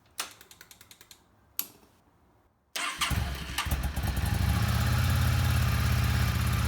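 A Yamaha Star 650 motorcycle with a rebuilt carburetor cranks with a few clicks, then fires and settles into a loud, steady idle on full choke, close up.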